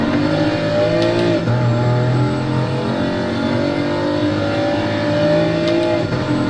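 Car engine in Gran Turismo Sport driven with a Logitech G29 racing wheel on PS4, a loud, sustained engine drone with steady pitch and small rises and dips as the car runs through corners, alone with no talking.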